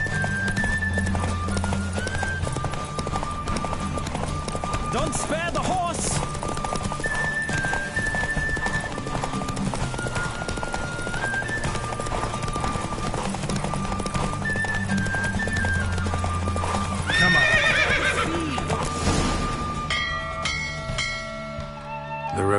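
In The Witcher 3, a racehorse's galloping hooves drum steadily and up close over game music for a long stretch. Near the end the horse whinnies loudly, then the hoofbeats stop.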